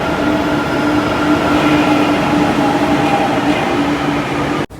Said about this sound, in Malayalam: ചെന്നൈ മെട്രോ റെയിൽ ആക്ച്വലി അണ്ടർഗ്രൗണ്ടിൽ കൂടെയാണ് ആക്ച്വലി ഇവിടെ പോകുന്നത്